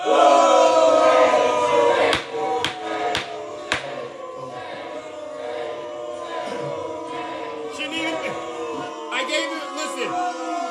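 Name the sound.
crowd booing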